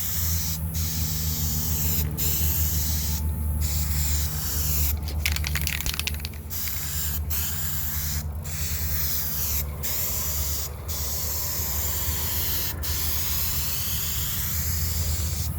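A spray can applies paint to the quarter panel of a 1985 Corvette Z51 in a steady, close hiss. Short breaks come between bursts.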